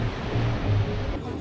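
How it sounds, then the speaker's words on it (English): Sea surf in Istanbul, heard from a distance as a steady low wash of waves beneath faint ambient murmur, continuous and soft with no distinct breaks. "In the distance behind me is the sea"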